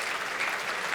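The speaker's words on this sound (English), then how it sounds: "Now you can clap." Dinner auction crowd clapping after a lot sells, a steady dense burst of applause filling the room, no voices over it.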